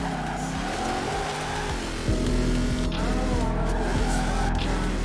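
A Ford Mustang GT500 drifts in a video game, its engine holding a steady, droning rev that jumps sharply partway through, with tire squeal layered over the continuous motor tone.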